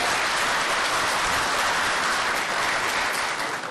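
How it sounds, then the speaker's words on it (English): An audience applauds in a council chamber during a city committee meeting, a dense, steady round of clapping from many hands that fills the space for several seconds without a break. "There's no clapping in the chamber"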